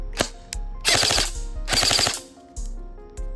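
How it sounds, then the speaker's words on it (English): An airsoft rifle fires in burst mode on a sluggish battery, producing two loud, rapid multi-shot bursts close by, with a few single clicks and shots between them. "Even with this battery still sluggish, it feels good to shoot like on burst."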